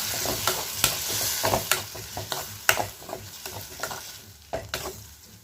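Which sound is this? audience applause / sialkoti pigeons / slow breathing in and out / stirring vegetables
stirring vegetables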